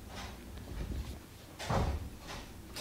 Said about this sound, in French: On dirait qu'il y a quelqu'un qui saccage une porte en bas.